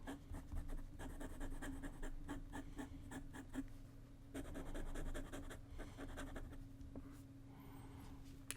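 A Pilot Kakuno fountain pen with a medium nib writes on paper, giving faint, close scratchy strokes in irregular bursts over a low background hum.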